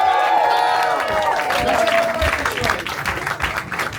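An audience at a live event claps and cheers in a continuous dense wash for several seconds, staying loud and even, with a faint tonal line underneath early on.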